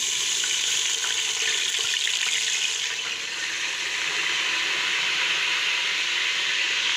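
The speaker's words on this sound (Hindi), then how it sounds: "अब मैं अदरक लहसुन ऐड कर रही हूँ देखिए" Ginger and garlic fry in a pan with browned onions, giving a steady, loud, close hiss of sizzling oil with faint stirring crackles throughout and no talking.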